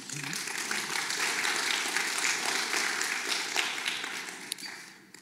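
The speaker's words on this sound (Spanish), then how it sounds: "Si va a aplaudir, pues aplauda también." Congregation applauding during a church service, a steady broadband clapping wash sustained for several seconds at moderate level before tapering off at the end.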